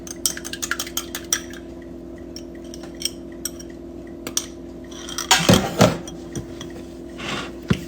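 Salmon patty mixture with smoked paprika, Creole seasoning and beaten egg being mixed in a bowl: scattered soft clinks and taps of utensil against bowl, then a louder burst of scraping and squelching mixing near the end.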